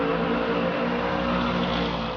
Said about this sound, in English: enjoy the sights, the smells, the sounds of these muscle cars